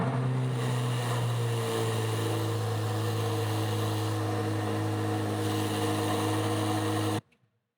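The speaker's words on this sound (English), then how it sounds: "let's go ahead and give it a remote start." A Corvette C8 Z06 engine idles after a remote start with a steady, droning low rumble close by, then shuts off abruptly just before the end.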